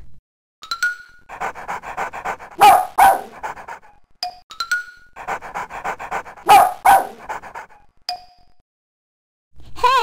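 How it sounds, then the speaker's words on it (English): A dog sound effect from a Sesame Street baby video game, repeated twice: quick rhythmic panting followed by a couple of sharp barks and a short yip, each cycle separated by silence. "press a key and the dog will make a doggy sound."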